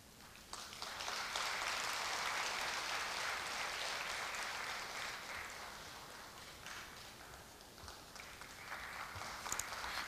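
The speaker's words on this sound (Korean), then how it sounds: "다시 한번 박수 부탁드립니다." Audience applause at a Korea University anniversary ceremony, where an award is presented, comes as a steady, full wash of clapping that swells early and then slowly thins without fully stopping.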